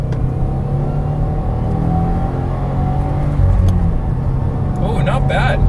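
A Subaru WRX engine pulls hard under acceleration on a speed run, a loud steady car drone rising in pitch from inside the cabin, with faint clicks near the end.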